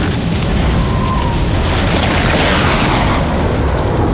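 Missile launch and explosion in Ace Combat 7 during a jet dogfight near thunderclouds: a loud, continuous roaring boom with dense broadband rumble sustained across the whole stretch, no voices.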